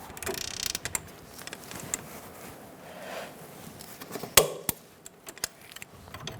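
Torque wrench tightening a sway bar link nut on a 2004-2009 Mazda 3, giving scattered close mechanical clicks and ratcheting, with one sharp click standing out partway through and quieter ticks after.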